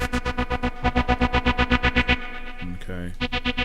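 Logic Pro X Alchemy synth patch being tweaked, a loud buzzy pulsing tone with effects that shifts character midway, sweeps through a warbling change and then returns to the rhythmic pulse.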